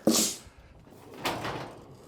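A shop door pushed open during a clean-out, giving a sharp scraping thud at the start and then a longer grinding swing, near and fairly loud with no talk.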